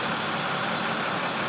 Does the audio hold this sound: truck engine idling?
yes